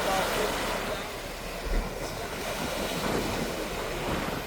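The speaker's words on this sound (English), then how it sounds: "The sound of waves was pleasing as usual" Ocean surf near a cruise port washes in with a broad, steady rushing roar, close by and mixed with gusty wind buffeting the microphone.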